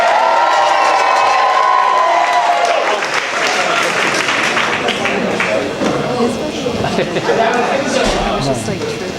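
A comedy club crowd at a New York one-liner show claps and cheers for comedian Sean Donnelly, loud at first and then thinning into scattered applause and chatter as voices rise over it.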